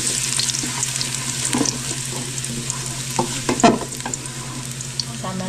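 Sliced ginger sautéing in a hot pan, a loud close sizzle with scraping stirs and occasional sharper clatters, steady and continuous without talk.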